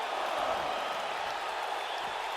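A wrestling arena crowd cheers and applauds for Bret Hart during his Iron Man match against Shawn Michaels, a steady, distant wash of crowd noise.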